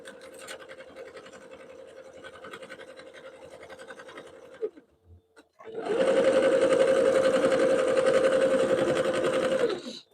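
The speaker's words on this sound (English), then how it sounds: "keep your sewing machine moving while you're doing this" A sewing machine stitching a fabric soup bowl cozy runs steadily at a moderate pace, stops briefly, then restarts louder and faster with a dense mechanical whir of stitching.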